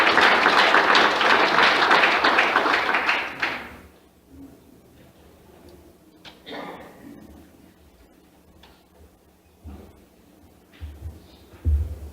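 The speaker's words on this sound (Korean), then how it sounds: "우리 큰 박수로 함께 맞이하십시오." A church congregation at a 2017 Korean mission conference gives loud, dense applause to welcome the pastor. It fades out after about three and a half seconds into a quiet room with scattered small knocks and shuffles.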